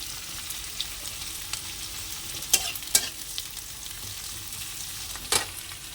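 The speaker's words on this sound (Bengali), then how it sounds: "পেঁয়াজ কুচানো দিয়ে দিলাম একটুখানি ভেজে নেব" Chopped onions fry in a pan with a steady, close sizzling hiss, broken by a few sharp clicks of stirring and no voices.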